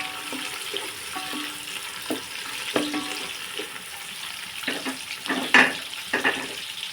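Onions frying in a pot for prawn biryani give a soft sizzle with irregular scraping stir strokes and clinks, close and moderately quiet, without talk.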